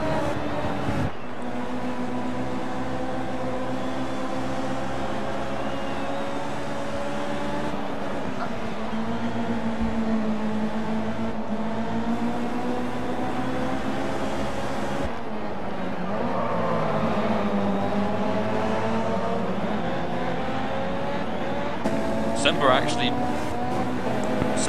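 Mazda RX-7 and other JDM tuner race cars roar around a track in a sustained, loud engine drone with shifting pitch as cars pass, under continuous race commentary.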